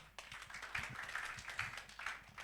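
A church congregation claps hands in a short burst of applause at a Sunday youth service, scattered, moderately close claps blending into a quick patter that holds for a couple of seconds.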